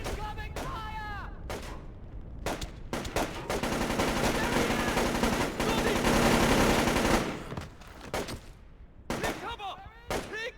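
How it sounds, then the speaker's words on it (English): Sustained automatic gunfire in the video game Splinter Cell: Chaos Theory, dense rattling bursts building to a loud continuous barrage in the middle, with voices shouting before and after. "Incoming fire!"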